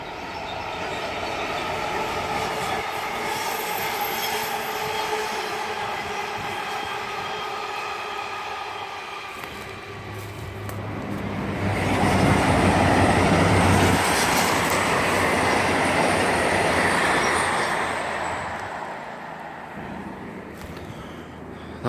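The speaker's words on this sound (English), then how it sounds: "I think there's a train coming" Train passing near an old railway path, a rumbling roll with clickety-clack of wheels and faint squeal that builds to a louder peak midway, then slowly fades, with light talk.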